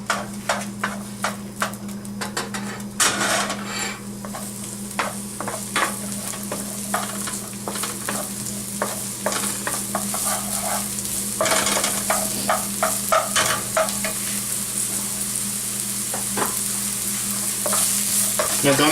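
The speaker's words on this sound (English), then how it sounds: "Just wait for it to sizzle." Chopped onions sizzle steadily in a frying pan for shrimp gambas, with repeated scraping and stirring clatters over a constant background hum.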